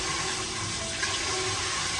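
Water pours steadily into a clay pot, a dense continuous rushing splash with no talking.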